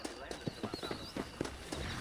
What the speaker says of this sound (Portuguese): Montar no meu cavalo.